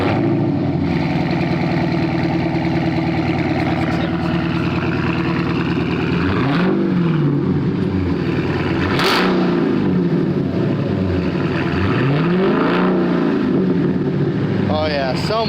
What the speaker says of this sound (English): This is after doing the exhaust straight pipe.